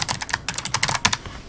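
Fast typing on a Logitech G913 TKL low-profile wireless mechanical keyboard, a quick run of crisp, close clicks and clacks in bursts with a brief pause, alone without talk.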